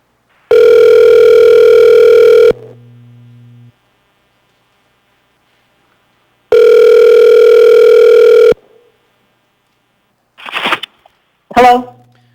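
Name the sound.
telephone dial tone on public hearing call line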